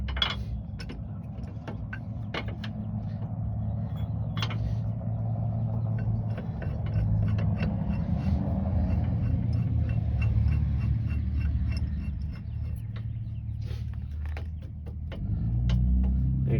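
Ratchet wrench tightening a ball joint on a 1999 Chevrolet Suburban, steady repeated clicking of the pawl in close rhythmic bursts over a low background hum, no talking.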